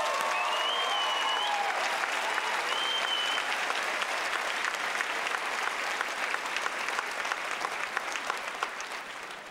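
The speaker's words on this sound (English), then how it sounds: "Let's give our retirees one more round of applause." A large audience at a high school commencement applauds retirees steadily, a dense wash of clapping that holds strong throughout and only begins to thin at the very end.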